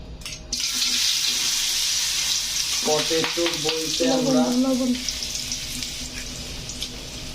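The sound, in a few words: potatoes frying in hot oil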